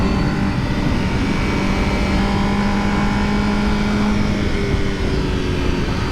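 A 2020 Honda Fireblade engine revs in second gear, a steady loud drone with a rising tonal whine, heard up close with heavy wind rush and no talking.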